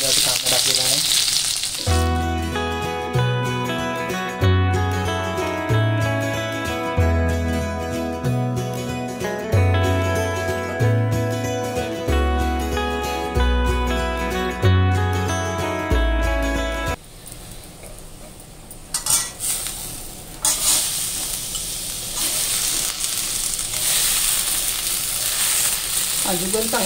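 Onion fries in hot oil in a kadhai for a cashew curry, first under loud background music and then as a steady, close sizzle heard alone.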